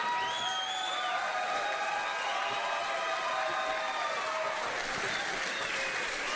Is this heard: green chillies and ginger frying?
no